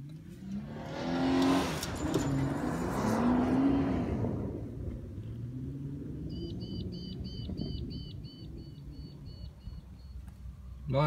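A car on a DIY dirt racetrack, heard from inside with the window down: engine revving loudly as it accelerates and slides, then fading into a quieter rumble with faint beeping at the end.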